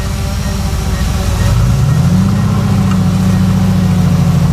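A Mercedes-AMG GT R with no grip is towed out at a slow crawl by a Mercedes G63 6x6, giving a steady, loud engine drone with a low hum that rises in pitch midway and then holds.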